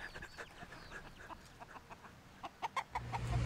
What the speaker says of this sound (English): Seriously, dozens of chickens here.